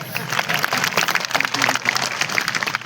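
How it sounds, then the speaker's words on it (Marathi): A crowd at a motivational stage event for students breaks into strong, sustained clapping, a thick patter of many hands that stays loud throughout. "आणि आता जोरदार टाळ्या वाजवा माझ्यासाठी"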